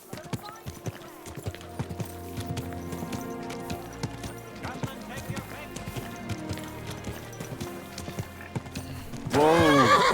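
Horse hooves clip-clopping and a neigh in the medieval game Kingdom Come: Deliverance II, set under game music and a trader's talk, with a loud whinny bursting in near the end.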